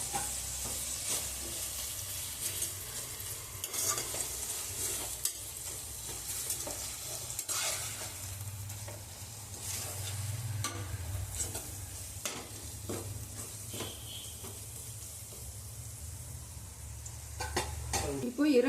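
Mint leaves stir-frying in a hot pan for prawn biryani, giving a continuous close sizzle and crackle with frequent scraping stirs and utensil knocks against the pot throughout, no voices.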